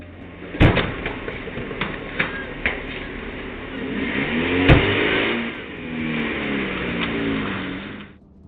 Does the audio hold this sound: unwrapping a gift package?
no